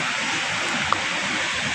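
Steady broadband rushing of rising typhoon floodwater, loud and continuous, like a strong current pouring past nearby.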